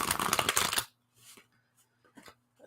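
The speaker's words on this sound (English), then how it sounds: "while I'm shuffling" Tarot cards being shuffled: a dense, loud riffling burst up close for nearly a second, followed by a few soft, scattered card flicks and slides.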